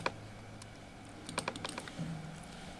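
Brief burst of typing on a computer keyboard, a quick run of light, close keystrokes after a quiet pause, faint against a soft room hiss with no talking.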